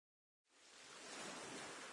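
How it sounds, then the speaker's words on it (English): Ocean waves in the video game Sea of Stars swell in from silence into a steady, broad surf wash that holds evenly to the end, with no voices. "you can hear the sound of the waves"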